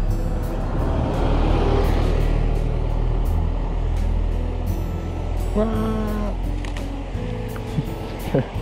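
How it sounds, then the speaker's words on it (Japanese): A bus pulls up on a sunny road near a waterfall, its low engine rumble steady throughout, with a brief rising mechanical whine partway through and a few sharp clicks near the end. "あ、バス来た。"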